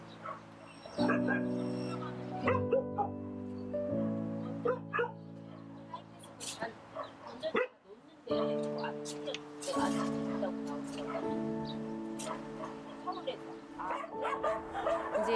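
Puppies on a dog meat farm in Korea bark, yip and whimper in repeated short bursts throughout, close by, with people talking over the animals at times.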